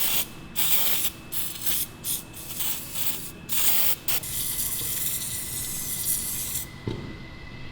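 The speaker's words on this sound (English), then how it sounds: "I'm gonna spray some PB Blaster, let it soak overnight" PB Blaster penetrating oil sprayed onto the bushings of a turbo Miata, a string of short, close hissing bursts separated by brief pauses, then one longer steady spray.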